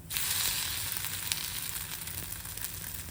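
Bhagar (barnyard millet) dosa frying in oil on a pan after being flipped, a steady close sizzle with faint crackles running throughout, no talking.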